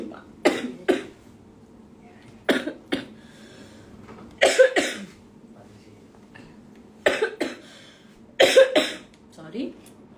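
Someone coughs repeatedly in short clusters of two or three harsh bursts, separated by brief quiet pauses, close and fairly loud.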